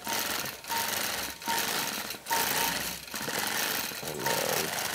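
A sewing machine runs stitch-in-the-ditch quilting on a churn dash quilt block, a loud close rapid whirring hum in four or five bursts with short pauses between them.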